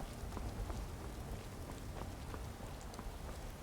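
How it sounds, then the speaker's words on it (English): Rain falls steadily in the video game Skyrim, a continuous close hiss of drops with scattered sharper patters on surfaces, even in loudness throughout. "There's old Cicero in the rain"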